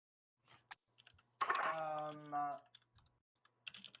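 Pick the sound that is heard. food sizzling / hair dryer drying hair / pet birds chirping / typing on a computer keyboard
typing on a computer keyboard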